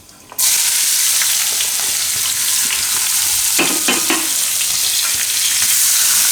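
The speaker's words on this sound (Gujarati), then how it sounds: "તેલ ગરમ થઈ ગયું છે આપણું તો તેલમાં આપણે હિંગ નાખશું થોડીક અને ડુંગળી" Asafoetida and onion hit hot oil in a pan, and a loud, close sizzle starts suddenly and holds steady throughout, with a couple of brief stirring scrapes partway through.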